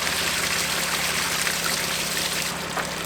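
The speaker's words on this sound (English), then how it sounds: "water is obviously going to come out of here" Water tinged pink with antifreeze drains from a van's fresh water valve as a steady, continuous hiss of flowing water, close by and unchanging.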